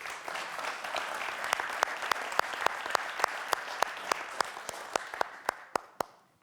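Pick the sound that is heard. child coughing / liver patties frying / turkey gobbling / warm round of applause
warm round of applause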